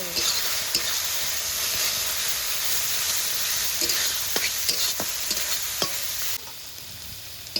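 Rice-flour and mustard paste stirred in a frying pan with a little water while cooking water lily stems with coconut, a continuous sizzle broken by sharp spatula scrapes and taps against the pan.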